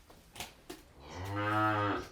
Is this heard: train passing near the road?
no